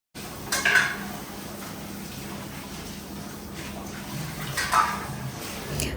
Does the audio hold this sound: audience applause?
no